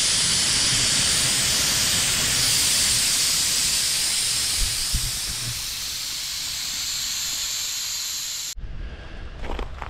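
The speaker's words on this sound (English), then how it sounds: "I'm going to let the air out one more time" Air let out of a John Deere B tractor tire on a rusted rim, a loud, steady, close hiss that slowly fades before cutting off sharply, leaving quiet handling noises.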